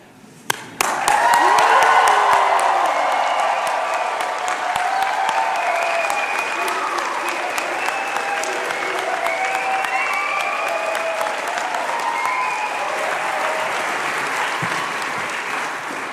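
An audience at a medical school convocation for the College of Medicine Peoria claps and cheers loudly and continuously, a dense sustained wash of applause with scattered whoops.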